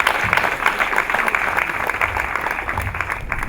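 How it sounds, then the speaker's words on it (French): A crowd at an NGO event claps in a steady, dense burst of applause, sustained and fairly close for a few seconds. "Donc, acclamez les très fort"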